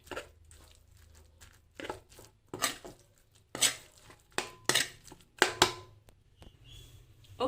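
Glutinous rice is stirred into caramelized sugar with milk in a pan, with close, irregular utensil scrapes and clinks against the pan, some sharp and loud, others soft.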